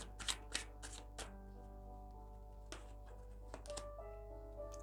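Tarot cards being shuffled by hand in a quiet room, several quick riffling bursts near the start followed by softer scattered taps and slides, close and crisp over a low steady hum.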